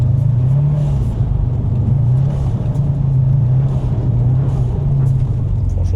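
A Subaru STI's engine rumbles steadily as the car drives on snow tires across the frozen Saint Lawrence River in Montreal, a loud, continuous low drone with a faint wavering tone and no break.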